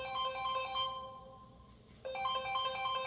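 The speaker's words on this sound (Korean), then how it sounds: "누가 전화 온 거죠? 엄마 전화 왔네." A mobile phone ringtone sounds for an incoming call, a bright repeating melodic pattern that pauses briefly midway and then resumes, fairly faint and with no talking over it.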